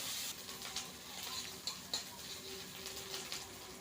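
Crushed ginger frying in hot oil while being stirred, a steady soft sizzle with occasional light scrapes and clinks of a utensil against the pan, heard close with no talking.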